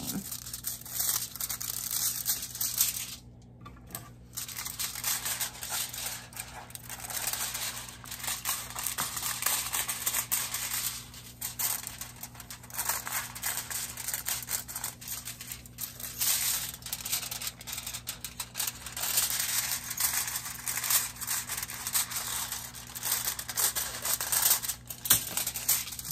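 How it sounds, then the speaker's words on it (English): Aluminum foil being folded and trimmed to fit a frame, giving continuous close crinkling and crumpling with sharper tearing and snipping bursts over a quiet background. "make some folds where I want to trim my excess aluminum foil to the shape of my frame"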